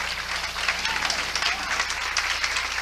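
An audience applauds a speaker at a talk, continuous broadband clapping from many people filling the room, steady and fairly loud with crowd murmur underneath.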